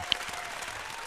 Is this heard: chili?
no